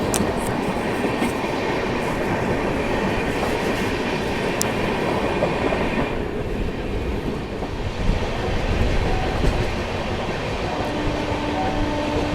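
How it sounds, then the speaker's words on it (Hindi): Mahabodhi Express rolling past Anand Vihar railway station, heard from on board: a loud, steady rumble of wheels and carriages with rhythmic clickety-clack over the rail joints continuing throughout. "यहाँ पे हम लोग की ट्रेन जो है आनंद विहार रेलवे स्टेशन को अब स्किप कर रही है"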